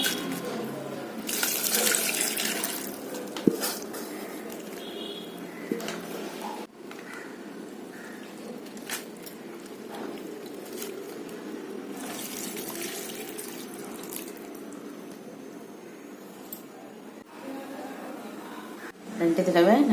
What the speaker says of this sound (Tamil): வாழைப்பூவை 2 தடவை கழுவி எடுத்துக்கலாம்.